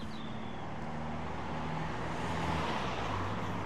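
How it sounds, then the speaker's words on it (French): Cars pass by outside in a steady, continuous roar of road traffic, a broadband wash of engine and tyre noise that holds at a constant level with no talking. "On prend une respiration quand les voitures passent."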